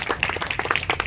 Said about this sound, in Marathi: टाळ्या वाजवा सरांच्या बद्दल